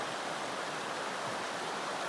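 A clear river in the woods rushes steadily, broadband and even with no pauses, close and moderately quiet.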